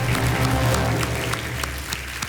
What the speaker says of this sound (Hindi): बहुत सारी तालियां और स्वागत आपका हो चुका है।